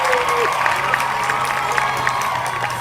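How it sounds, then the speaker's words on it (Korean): Audience applause and cheering for a singer at a hanbok gala show at Yeonpo Beach in Taean, South Korea: a dense, steady wash of clapping with scattered whoops, loud and sustained throughout. "열정의 박수 축하의 박수 보내주시면 고맙겠습니다"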